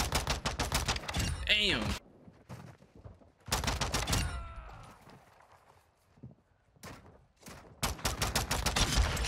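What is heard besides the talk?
pistol gunshots in a modded video game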